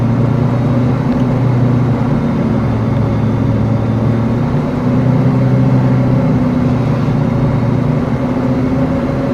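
Aircraft engine drone from Microsoft Flight Simulator 2020, a loud, steady low hum with constant tone and no talk over it.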